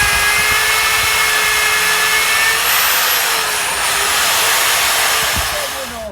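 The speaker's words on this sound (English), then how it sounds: "We're using this Evolution mag drill to drill through the steel" An Evolution mag drill bores through steel for garden office base shoes, a steady loud high-pitched whine with broadband grinding noise running continuously, easing slightly near the end.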